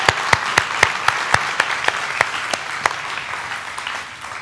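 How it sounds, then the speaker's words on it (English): A church congregation applauds together, a dense wash of clapping with several sharp loud claps standing out early, then slowly thinning toward the end. "now just applaud them of gratitude for what they're doing"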